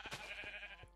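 A sheep in the Minecraft game bleats once, a short, faint wavering cry that stands alone over light background noise.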